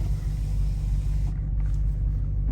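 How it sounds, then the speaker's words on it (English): A widebody Dodge Charger Hellcat idles with a deep, steady exhaust rumble, low and continuous, fairly quiet and heard alone. "See what coming out through my exhaust."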